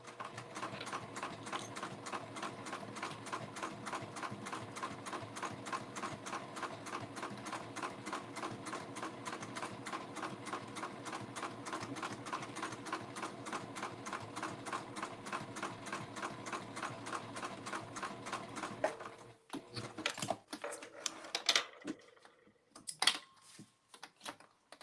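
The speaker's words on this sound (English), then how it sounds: "And I am sewing on a Juki TL18." A Juki TL18 sewing machine runs top stitching at a long stitch length, a steady rapid mechanical clatter for most of the time before stopping into a few scattered clicks and handling noises.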